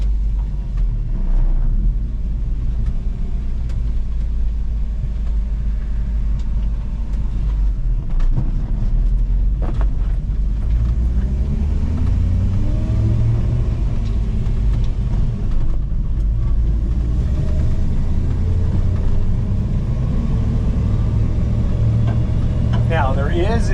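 Rough, constant engine drone and road rumble inside an uninsulated 1977 Toyota FJ40 Land Cruiser cabin while driving, loud and steady throughout, with occasional rattles and someone talking over it.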